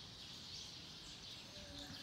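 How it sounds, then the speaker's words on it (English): Hundreds of sparrows roost in a tree at dusk in Tsukuba City, a dense, continuous mass of high chirping and twittering blending into one steady chorus at a moderate distance. "hundreds of sparrows now getting home and sleep there"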